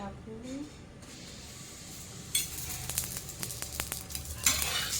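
Puran poli cooking with ghee on a pan, a quiet start giving way to a bright sizzling hiss with a few sharp ticks and scrapes, close by, with a voice speaking over the start.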